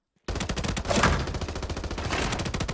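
Rapid automatic rifle fire at about 850 rounds per minute in a video game, a dense continuous burst of loud shots running nearly three seconds without pause.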